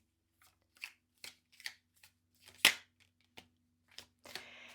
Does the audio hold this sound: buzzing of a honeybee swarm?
no